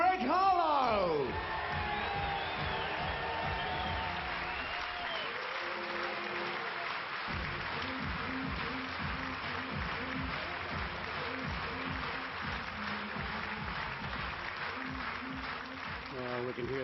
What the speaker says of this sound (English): we can hear the atmosphere here at Potters Leisure Resort. It is buzzing. A very large crowd, as expected.